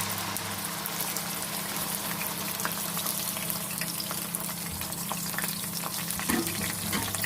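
Onion paste made from two medium onions fries in hot oil on a medium flame for chicken makhni handi, giving a dense, steady sizzling hiss that continues without a break.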